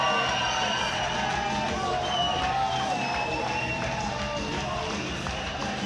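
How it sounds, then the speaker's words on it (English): A large arena crowd in Slovakia roars steadily for Lethwei fighter Michal Kosik at a world championship bout, with dense continuous cheering, whoops and scattered calls. "We can hear the love from the crowd"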